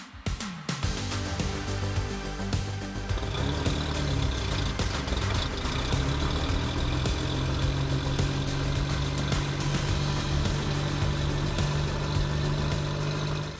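Austin 7 car engine running at Curborough Sprint Circuit, a steady mid-pitched drone that starts after a brief rise and holds constant and fairly near throughout.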